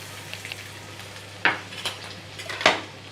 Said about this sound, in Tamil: ஆனியன் போட்டு கொஞ்சம் நல்லா ஃப்ரை ஆகட்டும்.